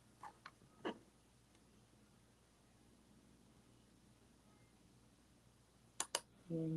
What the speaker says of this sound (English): I'm clicking through my documents.